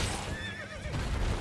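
A horse in the video game Elden Ring whinnies once, a wavering high neigh that rises and falls over a dense, steady layer of game noise and rumble.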